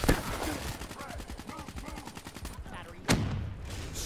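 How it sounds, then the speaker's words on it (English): Flashbang grenade going off in the Black Ops 3 video game amid rapid game gunfire, with a sharp loud burst near the end standing out above the steady shooting. "Throwing in. Flashbang."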